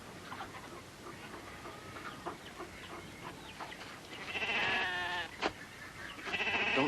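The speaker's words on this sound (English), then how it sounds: "Now these are sheep, boy. Nothing but dumb sheep." Several sheep bleat in a farm setting, a few scattered calls followed by louder, closer drawn-out bleats over a faint outdoor background.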